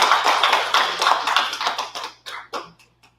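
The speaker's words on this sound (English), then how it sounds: "Can you give a round of applause?" Audience at a business event giving a round of applause, a burst of many hands clapping that thins out and dies away into a few last scattered claps.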